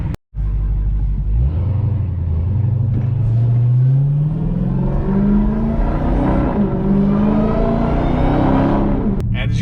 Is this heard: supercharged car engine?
yes